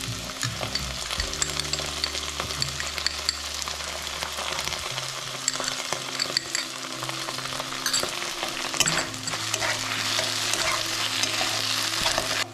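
Steady loud frying and stirring in a pan while chilli paneer is cooked, with a constant hiss and scraping spatula strokes, a low hum running underneath and no speech.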